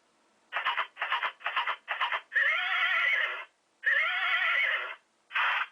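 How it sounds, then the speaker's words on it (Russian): A toy horse neighs: a quick run of short whinny bursts, then two long drawn-out neighs and a final short one, loud and close with a slightly tinny, electronic tone. "Лошадь."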